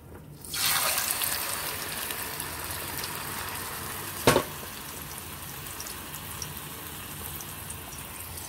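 Chiles strained into a pot of hot oil for pork chops, giving a sudden steady hiss of frying and splashing liquid that continues loud and even throughout, with one brief sharp clatter midway.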